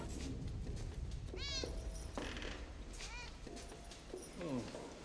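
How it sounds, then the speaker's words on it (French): A cat meows several times in a film scene, the rising and falling cries coming clearly and close over steady background sound. "Miaou, miaou, miaou !"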